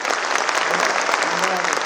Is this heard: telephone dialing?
no